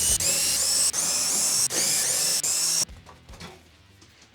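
A drill driver with a 5/16 nut driver bit removing screws from an air conditioner side panel, loud high whines in several short bursts, then stopping into quieter clicks and handling noise.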